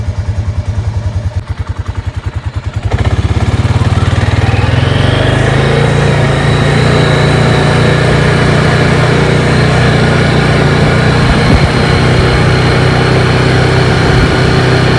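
A Honda Rubicon 500 ATV engine catches after a few seconds of cranking and settles into a loud, steady idle close by, the running note holding evenly with slight roughness through the rest.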